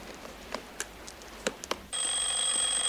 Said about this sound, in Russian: Мистер Катроп, вас к телефону